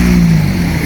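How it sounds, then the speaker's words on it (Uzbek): Cars on a snowy road at minus two degrees pass as a continuous loud, low engine and tyre roar with a steady hum, close by and without pause. "Mashinalar mana shuncha kelyapti."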